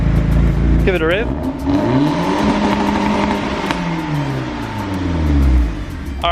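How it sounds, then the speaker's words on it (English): An E36 drift car with an M40B18 engine and a small exhaust revs loudly up and down several times, close by, with voices talking over parts of it. "Give it a rev."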